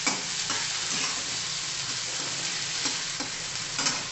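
Finely chopped onion being fried and stirred in a pan for tomato chutney, with a steady moderate sizzle and occasional soft scraping of the stirring utensil.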